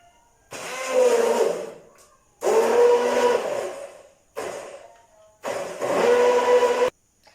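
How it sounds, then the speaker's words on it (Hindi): A blender blending a strawberry shake with milk whirs in four loud bursts of a few seconds each, separated by short pauses, the motor droning steadily while it runs. "अब हम ब्लेंडर की मदद से ब्लेंड करेंगे।"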